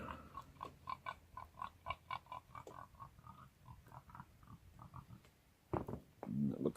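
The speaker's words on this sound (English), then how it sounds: "The pigs are out." Pigs grunt and oink outdoors on a farm during a damp May snowfall, a steady run of short, fairly close grunts with a couple of louder snorts toward the end.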